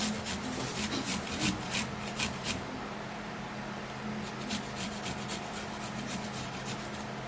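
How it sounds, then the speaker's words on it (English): Garlic is grated, producing a run of close, rhythmic rasping strokes, quick and steady at first, then softer and more evenly spaced, with no talk. "I'm going to grate the garlic."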